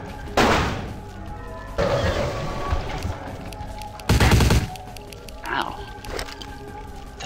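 Uzi bursts in a vampire-themed video game, several loud short volleys with pauses between them, the game's noise running underneath.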